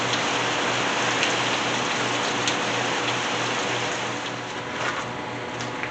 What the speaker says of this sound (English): We had the rain pouring down.